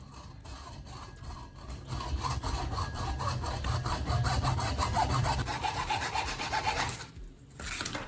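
A saw cutting a piece to length in steady, rasping back-and-forth strokes, close and fairly loud, stopping near the end with a brief pause before a last scrape.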